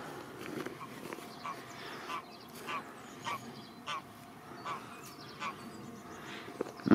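A duck quacks in a regular series of short, nasal honking calls about every half second, moderately close, over a low steady background hum.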